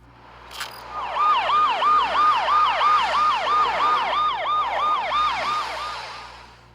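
Neon City castle skin effect in Lords Mobile plays wailing police car sirens, several overlapping electronic yelps rising and falling in quick regular cycles, loud and close, swelling then fading at the end.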